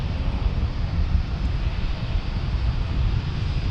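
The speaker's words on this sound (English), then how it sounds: "And look, there's a Dreamliner." A Boeing 787 Dreamliner at San Diego airport gives off a steady, broadband jet roar that holds at an even level throughout, with no voices over it.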